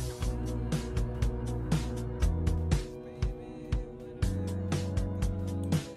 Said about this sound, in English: So I have an electric bass and a synthesizer bass.